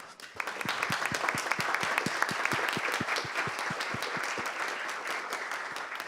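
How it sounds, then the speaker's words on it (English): An indoor audience at a talk on small states and open borders gives steady applause, dense clapping from many hands at moderate volume for several seconds. "give a big applaud to our 4 helpers here"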